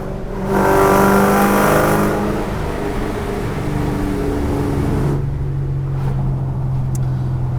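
Ford Shelby Mustang GT500 engine revs hard and loud, a rising roar that peaks early then settles into a steady deep drone close by.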